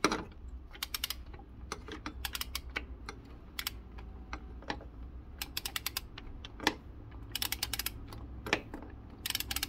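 An extended ratchet wrench clicks repeatedly while loosening M10 bolts during accessory belt, tensioner and alternator pulley replacement on a car engine. Rapid, close clicking comes in uneven bursts with brief pauses between them.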